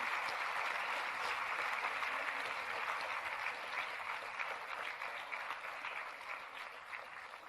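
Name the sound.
audience applause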